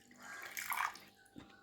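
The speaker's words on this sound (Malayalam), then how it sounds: "കുറച്ച് വെള്ളം ഒഴിക്കാം." A little water is poured into a pot of peeled ripe mangoes, giving a soft, brief splash and trickle that swells and fades within about a second.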